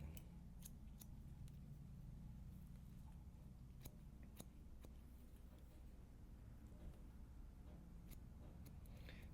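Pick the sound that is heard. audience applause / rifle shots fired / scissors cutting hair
scissors cutting hair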